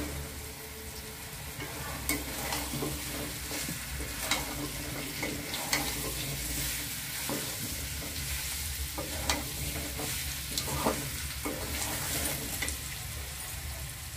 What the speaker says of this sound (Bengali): মশলাটাকে ভালো করে কষিয়ে নিয়ে ভেজে রাখা আলুগুলো দিয়ে দিচ্ছি।